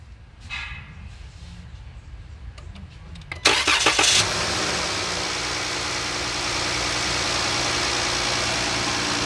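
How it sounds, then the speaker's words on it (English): A Chrysler 3.6 Pentastar V6 in a Dodge, Chrysler, Jeep or Ram vehicle with cylinder head ticking is cranked, catches with a loud roar, then settles into a steady, even idle that continues to the end. "let's start the engine and see where we at"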